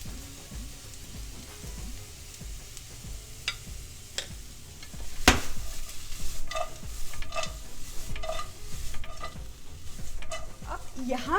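Julienned capsicum and cabbage stir-fry in a pan for instant noodles, with a steady sizzle and frequent clinking spatula strokes, one sharp knock midway, close and growing busier toward the end.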